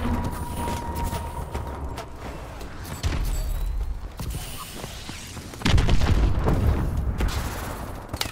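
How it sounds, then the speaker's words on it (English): Missile strike explosions in Call of Duty: Advanced Warfare, a series of dull booms and rumbles with one heavier close blast near the end, mixed with battle clatter. "Enemy missile strikes."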